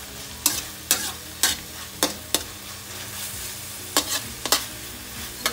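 Ginisang ampalaya with corned tuna being stirred in a pan: a string of sharp, irregular clacks of a utensil against the pan rings out close by over a low, steady sizzle.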